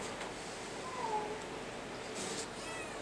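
A part-Siamese cat, about a year old with blue eyes, gives a couple of faint, short meows while being held indoors over a low room hum.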